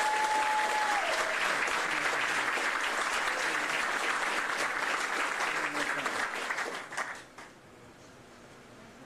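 A crowd of servicemen and women at Hickam Field in Honolulu gives Vice President Mike Pence a sustained round of applause. The dense clapping runs for about seven seconds, then tapers off into quiet.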